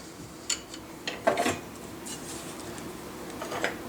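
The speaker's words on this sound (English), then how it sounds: "So now we're going to cut this off to length," A gunsmith's saw cutting a gun part to length in a workshop, heard as several short, quiet rasping strokes at irregular intervals over a soft background hush, with no talking.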